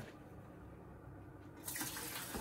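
Cooking juices from a whole roasted turkey poured off into a container, a steady liquid stream that swells louder and splashier near the end, with no talk.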